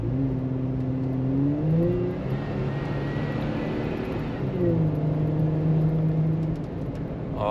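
A supercharged car with a Magnuson supercharger and an electronic boost controller accelerates gently under boost, its engine tone rising smoothly and then settling again, a steady close drone heard from inside the car.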